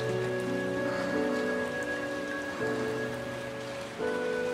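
A brief passing rain shower over an empty old greenhouse, a steady close wash of falling rain with soft musical tones sustained underneath, from a drama CD.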